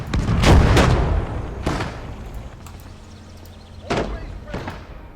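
Artillery guns in a World War II strategy game fire heavy booming shots: a loud cluster early on, then a lone blast, then two more rounds near the end, each followed by a rumbling tail over a low battlefield background.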